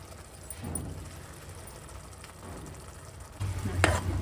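Mint rice mixture with turmeric stirred and fried in oil in a pan, a steady close sizzle with soft scraping strokes of the spoon, growing louder near the end.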